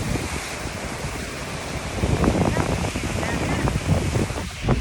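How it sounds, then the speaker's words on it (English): Ocean surf rolls in at Sebastian Inlet, a steady broadband wash of breaking waves with wind buffeting the microphone, swelling slightly louder midway, while people talk faintly underneath. "Wow, look at the waves today."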